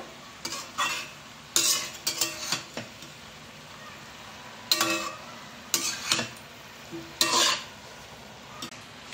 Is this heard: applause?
no